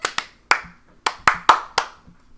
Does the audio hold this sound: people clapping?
yes